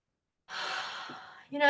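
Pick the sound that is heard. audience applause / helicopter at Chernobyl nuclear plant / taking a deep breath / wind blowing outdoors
taking a deep breath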